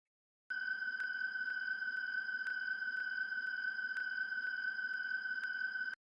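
Springtrap's background ambience from Five Nights at Freddy's 3: a steady electronic hum with a sustained high tone and faint periodic clicks drones on continuously, eerie and unchanging, with no voices.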